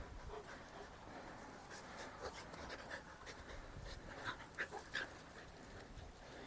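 A snow dog pants quietly up close, rapid soft breathy huffs running steadily with a few faint whimpers and small squeaks mixed in, no talking.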